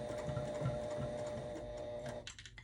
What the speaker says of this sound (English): you're gonna hold your threads just for a couple of stitches,